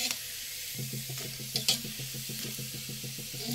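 Onions fry in a pan for a Bengali bottle gourd leaf mash, a quiet, even sizzle beneath a steady rhythmic clatter of stirring, with a couple of sharper knocks partway through.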